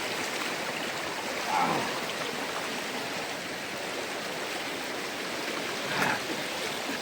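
A jungle river flows steadily as a broad, close rushing wash of water, even and unbroken, with a couple of slight swells and no voices over it.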